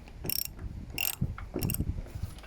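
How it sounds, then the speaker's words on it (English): Socket wrench ratcheting as roof fittings are removed from a 2019 Vauxhall Vivaro van, a few close bursts of rapid metallic clicking separated by short pauses, with no talk. "So nice and easy with a socket wrench"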